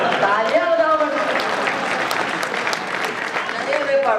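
Audience clapping at a kavi sammelan poetry gathering at the Kishanpur Mela, a dense, steady burst of applause running throughout with crowd voices and speech mixed in.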